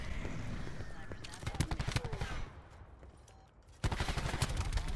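Submachine guns fire in a video game in rapid bursts of crackling shots. There is a short lull in the middle before another loud burst.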